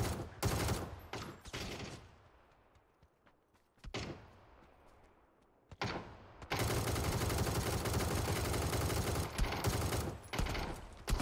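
Gunfire in the video game PUBG: a quick burst of rapid shots, then single cracks separated by quiet gaps, before a long, dense stretch of sustained automatic fire that stays loud to the end.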